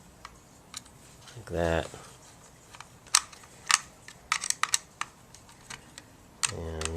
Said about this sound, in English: And then screw in the back cover